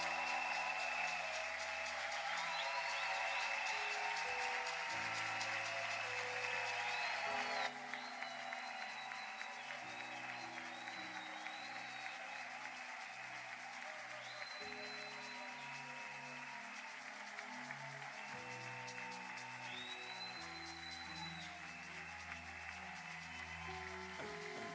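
A church congregation at a Sunday evangelical service applauds, steady clapping that goes on throughout and is heard from a distance over a sustained background of music.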